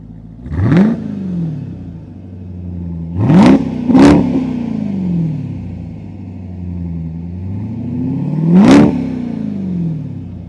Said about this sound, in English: you can probably already hear the engine as I got down here